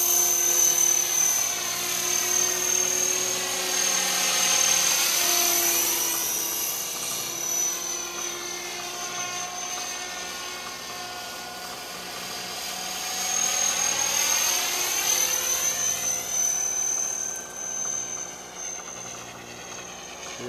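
A Trex 500 RC helicopter flies nearby with a high, buzzing rotor whine that rises and falls in pitch as it passes back and forth, loud and continuous for twenty seconds.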